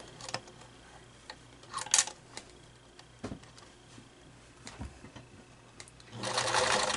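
A sewing machine stitches a fabric face mask without elastic, giving scattered close clicks and short mechanical bursts before settling into a loud, steady running whir at the end.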